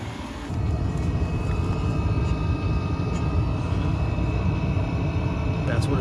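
A steady, droning roar of a running Chinese diesel air heater in a bus-to-RV conversion, with a whooshing, jet-like rumble that starts abruptly and continues evenly.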